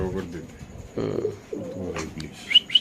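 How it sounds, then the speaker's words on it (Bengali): Pigeons at a Bangladeshi pigeon farm give soft, low coos in short bursts, close by, mixed with someone talking over them. "এখানে আছে দুটো কবুতর দেখতে পাচ্ছেন"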